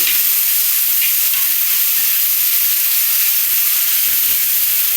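Food frying on a roti tawa in a home kitchen, a steady broadband hiss and sizzle without pause, with occasional faint scraping.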